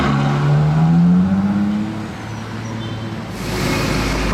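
Ferrari FF driving past in traffic, a close engine drone with a brief rising note early on that fades into a quieter roadside hum, with no voices.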